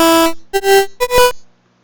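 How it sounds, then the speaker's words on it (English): A synthesizer set to a square wave plays three short, buzzy, hollow tones in quick succession, each stepping slightly higher in pitch and cut off cleanly, loud and close with no voice over them. "I can change this wave to be square wave."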